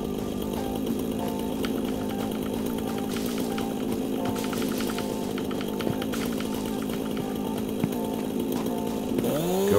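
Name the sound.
chainsaw cutting trees in the video game Satisfactory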